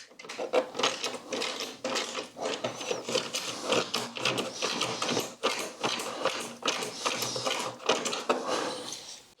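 A hand ratcheting screwdriver backs out a screw on the front end of a BMW R1300 GSA motorcycle, giving a steady stream of quick, close clicks in short repeated bursts through most of the clip.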